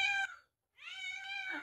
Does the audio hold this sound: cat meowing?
yes